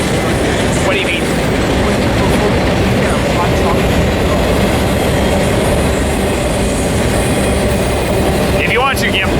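An eastbound manifest freight train rolls past near Barstow, California as a loud, continuous rumble of wheels and cars, steady throughout with brief clattering and squeals, and a voice briefly heard over it.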